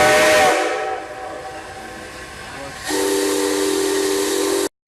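An old Maria Fumaça steam locomotive lets out a loud, close whistle blast that cuts off, followed by a long stretch of hissing steam and then a second sustained, shrill whistle that ends abruptly.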